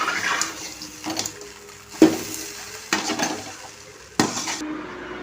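Chicken being mixed into rice in a hot pan, with spatula scrapes and sizzling in a few separate loud strokes roughly a second apart, close-up.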